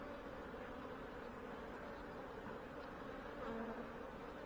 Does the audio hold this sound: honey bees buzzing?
yes